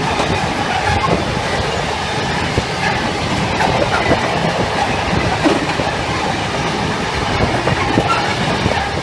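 Class 66 freight locomotive hauling a mineral train through Grantham station, a loud, steady rumble with clattering wagon wheels and rail noise throughout, close by and with no talk.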